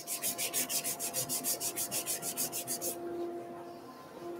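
Sandpaper rubs rhythmically against a wooden race car toy turning on a lathe, with about a dozen quick swishing strokes over a steady motor hum that continues alone afterward.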